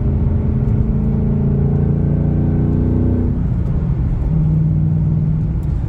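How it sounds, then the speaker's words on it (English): A car engine rumbles loudly from inside the cabin, its revs falling away as it downshifts and then settling into a lower steady drone, with no speech. "Listen to that downshifting"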